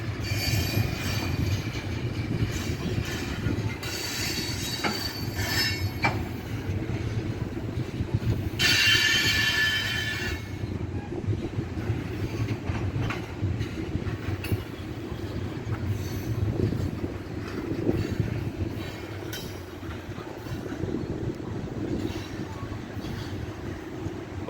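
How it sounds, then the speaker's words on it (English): A long freight train rolls slowly past a big railroad crossing, its cars rumbling steadily with clicking wheels and occasional high metallic squeals from the wheels, loud and continuous throughout. "this train isn't over yet"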